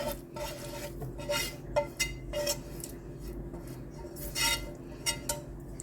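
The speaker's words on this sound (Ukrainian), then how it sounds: "висипаю смажену моркву з цибулькою і чесничком." Fried carrots, onion and garlic being tipped and scraped from a pan into a bowl, with repeated metallic clinks and scrapes of a utensil against cookware over a steady background hum, no talk.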